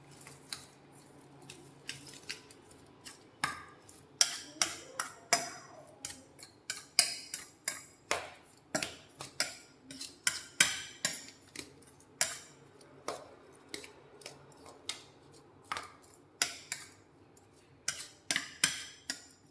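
Chaoshan steamed dumpling filling stirred in a bowl, sounding as sharp, irregular clicks and light scrapes from the utensil hitting the bowl, close and fairly quiet over a soft background hum.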